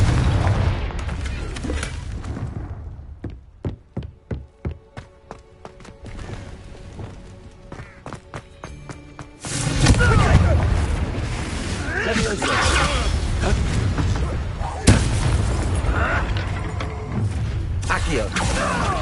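Blasting fire-spell explosions from the Hogwarts Legacy video game, a sharp boom opening into a loud, dense rush of crackling combat noise, with spell impacts and game effects layered over rapid clicking bursts earlier on.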